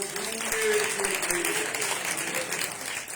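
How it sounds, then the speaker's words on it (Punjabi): A church congregation claps together in sustained applause during a Sunday service, a dense patter of hands with a voice carrying over it. "ਤਾਲੀਆਂ ਵਜਾਵਾਂਗੇ।"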